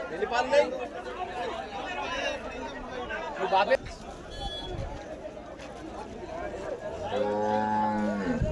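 Cattle, including a Jersey cow, low at a busy cow market in Jagadevpur, a long moo rising near the end over steady crowd chatter and nearby talk.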